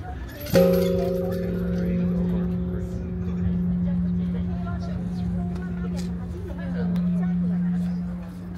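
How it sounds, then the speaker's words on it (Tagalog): The Peace Bell at the Hiroshima memorial rings once with a sharp strike, then its deep tone hums and slowly fades for several seconds amid outdoor crowd murmur and passing traffic. "The peace bell is very precious."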